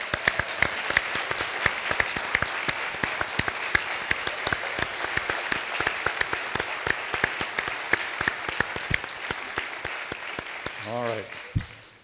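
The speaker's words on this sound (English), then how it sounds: "let's give the advisory board members that are here a round of applause." A crowd at a business challenge event applauds advisory board members with a sustained round of crisp, close claps, and a few individual claps stand out above the rest. Near the end the applause thins while a brief voice sounds.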